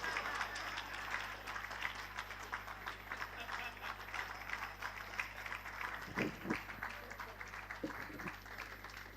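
A seated audience at a post-budget housing dialogue claps steadily in a hall, a dense, even patter of many hands that continues without pause, fairly distant and low in level, with a few louder claps near the end.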